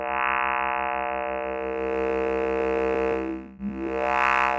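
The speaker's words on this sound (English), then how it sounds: "I'll choose the rectangle shape, it will change the sound like this" Synthesizer preset with a rectangle-wave oscillator's gain raised, a buzzy sustained harmonic tone pulsing in a regular rhythm, briefly dipping and sweeping down then back up near the end.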